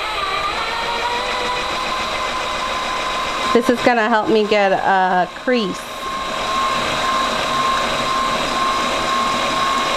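A diamond drill bit slowly bores through a terracotta pot with water, making a steady whirring hum throughout, briefly overlaid by a person speaking in the middle.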